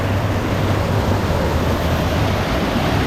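Waterfall water rushing and crashing steadily at a hidden jungle pool where people are bathing, a dense, continuous roar filling the whole stretch without any voices.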